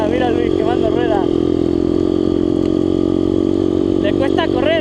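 Motocross motorcycle, a Yamaha YZ 125 or Rebel Master, revving loudly and steadily close by, its engine pitch climbing and falling in repeated sweeps, with voices talking over it.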